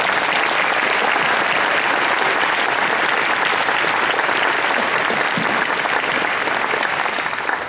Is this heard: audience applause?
yes